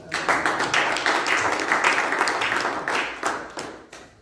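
A church congregation claps and applauds steadily for a few seconds, a dense run of hand claps at moderate loudness with a few sharper individual claps near the end.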